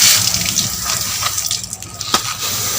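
Water poured into a plant pot of variegated elephant ear soil after repotting, a steady close gushing splash that thins and wavers toward the end.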